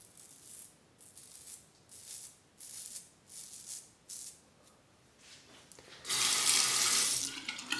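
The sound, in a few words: tap water running to rinse while shaving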